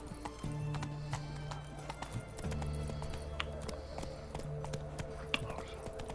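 A horse gallops in The Witcher 3: Wild Hunt, its hooves beating out a steady, close clip-clop rhythm for about six seconds, with brief pauses in the stride.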